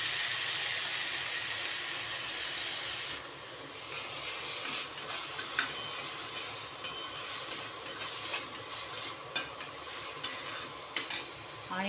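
Raw green tomato goes into a hot pan for chutney, setting off a loud, steady sizzle that shifts in tone. Repeated scraping stirs follow, close up, with no talk.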